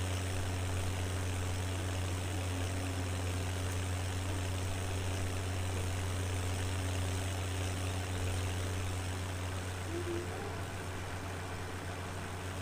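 A tractor engine idles steadily during a harvest on a farm in Limousin, a low constant drone held at moderate volume throughout with no speech.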